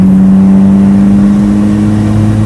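Turbocharged Mazda Miata engine pulled to full throttle from about 2800 rpm, a loud steady drone holding close and alone without any talk.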